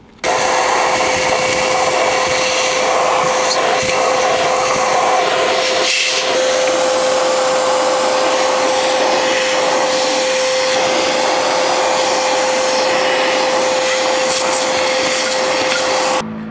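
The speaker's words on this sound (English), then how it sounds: "gently slurp these spiders out" A vacuum cleaner drones loud and continuous at close range while sucking spiders out of a 1974 RCA KCS168 black-and-white TV, its steady whine briefly dipping once as the nozzle shifts.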